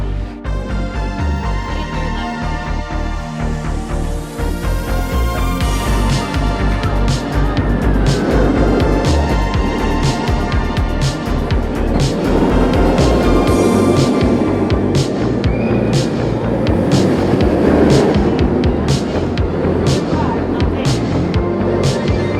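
Great Bear roller coaster at Hersheypark ridden from the back row, a loud continuous roar of wheels on track with rushing wind, rattling bursts and rising whooshes throughout, with faint voices mixed in.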